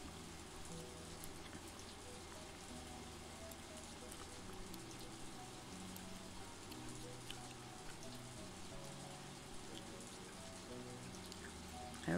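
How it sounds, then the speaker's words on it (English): Steady rain patters throughout in the farming game Story of Seasons, a dense even hiss with soft ambient game sounds layered beneath. "Everybody's outside in the rain enjoying themselves."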